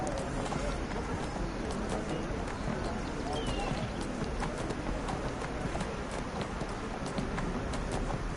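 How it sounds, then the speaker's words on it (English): A horse running through a city in the video game Neverwinter, its hooves giving a steady, rapid clip-clop that continues without pause under constant background noise, with people talking over it. "I'm running around the city like an idiot on my horse."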